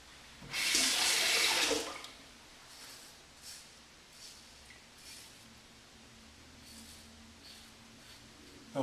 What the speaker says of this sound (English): We'll perform a slight rinse.